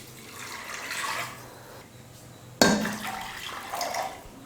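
Water poured into a cooking pot of potatoes and soaked yellow peas with turmeric and salt, a soft splashing fill with a sudden louder gush midway that continues steadily, close and alone.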